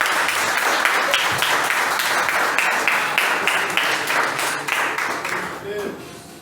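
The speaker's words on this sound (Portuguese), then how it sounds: "Vamos aplaudir ao Senhor" A church congregation at an evangelical worship service claps steadily and loudly for several seconds. The applause thins out near the end as a voice begins to speak.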